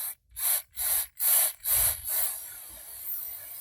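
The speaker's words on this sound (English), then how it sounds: "we're gonna go ahead and spray it inside." Five short bursts of hissing aerosol induction cleaner sprayed inside an engine intake, evenly spaced, followed by a fainter trailing hiss; close and fairly loud, with no talking.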